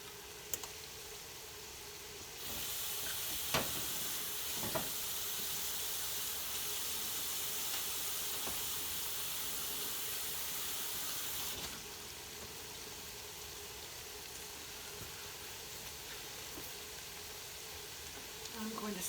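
Onions sizzle steadily in a pan as they caramelize for French onion chicken, a bright, continuous hiss that swells louder for several seconds in the middle, with a couple of faint knocks.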